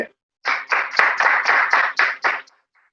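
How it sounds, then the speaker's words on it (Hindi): An audience at a live Diwali religious discourse claps loudly in short, rapid bursts, a dense close volley of hands pulsing about eight times before stopping abruptly, with near silence before and after. "एक बार तालियां बजा दो जोर से"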